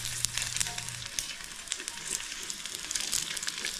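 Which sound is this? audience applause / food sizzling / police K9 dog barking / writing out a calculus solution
food sizzling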